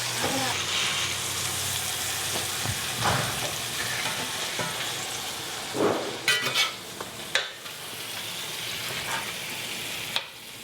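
Scrambled eggs and sausages sizzle steadily in a frying pan, with a spatula scraping and stirring and a few sharp utensil clinks near the end.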